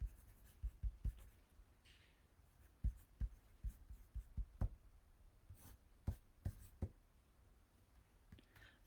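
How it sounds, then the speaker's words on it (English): A pen or pencil writes a name on paper close by, a quiet series of short irregular scratches and taps separated by brief pauses, with no talking over it. "I'm just going to write your name down."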